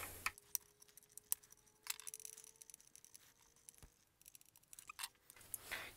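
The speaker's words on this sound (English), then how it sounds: "Gonna break these screws free again." Screws being loosened from a Ford Sync 2 display on a 2012-2015 Ford Escape, quiet close clicks and ratcheting scrapes in irregular bursts with short pauses between them.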